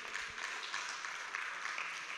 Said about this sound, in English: les amis, il faut les applaudir